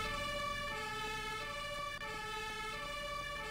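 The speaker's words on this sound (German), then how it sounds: "Aber macht die Sirene aus!" An emergency vehicle siren wails continuously in a Roblox Berlin city game, a steady electronic tone layered over a low engine hum, loud and uninterrupted with no talking.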